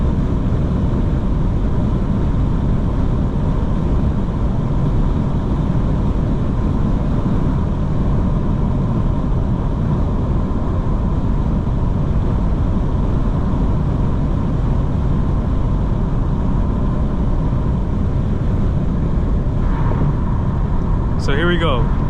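A 2025 BMW M4 Competition xDrive on a warm night drive gives a steady, loud cabin drone of engine and road noise throughout, with a brief sharper rev near the end.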